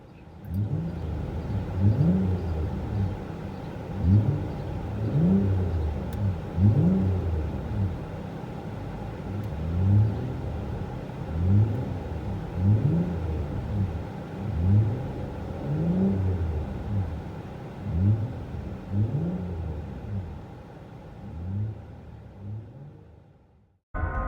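Inside a 2013 Nissan Pathfinder with a Magnaflow cat-back exhaust, the engine drones low and mild, swelling in repeated revs and easing back over a steady rumble, then cutting off at the end.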